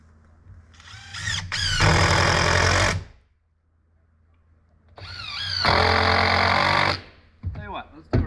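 A power drill drives screws into deck planks outdoors on an A-frame cabin build, two loud sustained whirring bursts with short revving starts and a quiet gap between them, plus a brief buzz at the end.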